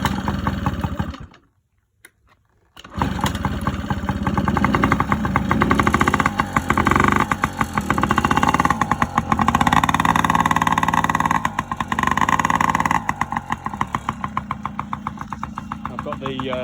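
A Yamaha PW50 dirt bike engine, just rebuilt, cranks after a brief silence, then catches and runs steadily with a buzzing, slightly uneven two-stroke note close by.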